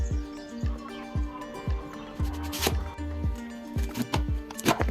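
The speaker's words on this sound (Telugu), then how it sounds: "ఇప్పుడు ముక్కలు కోసుకుందామండి" A knife cuts raw mango into pieces for Andhra avakaya pickle, giving a steady series of firm, close chopping thuds on a board, roughly one every half second, with some clatter and light background sound.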